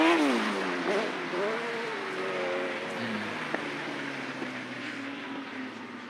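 Autograss race cars roar together off the start of a British Autograss Series race at Border Counties, a loud dense engine drone with rising and falling revs across the field, under a faint commentator's voice.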